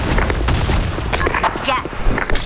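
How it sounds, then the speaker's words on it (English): Grenade explosions and gunfire in the shooter Broken City, a dense cluster of loud booms and sharp blasts in quick succession, with voices shouting over the combat. "Grenade!"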